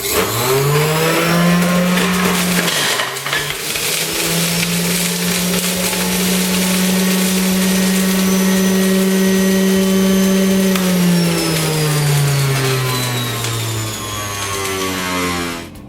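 Electric juicer whirring loudly as lemon is fed through for a green apple-and-ginger juice, a steady motor drone that dips briefly early on, then holds strong before slowing toward the end.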